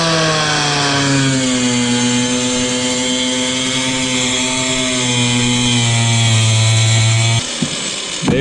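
A power tool whines loudly and steadily as it cuts along a marked line through the plastic front bumper of a Honda Civic FA1, then stops abruptly near the end.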